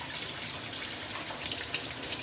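Tap water runs steadily while hair is wetted for washing, a soft, continuous hiss and splash close by with small irregular bursts of spatter and no voices.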